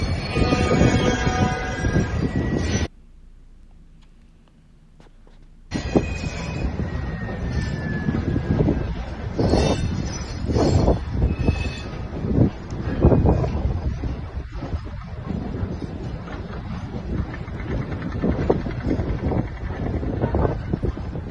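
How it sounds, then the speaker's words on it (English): A long freight train hauling military equipment rumbles past with loud, continuous rolling clatter and wheel squeal. Wind buffets the microphone, and the noise briefly drops to a low hum before the heavy rail roar returns and continues. "A huge freight train moving specialist military equipment associated with a nuclear"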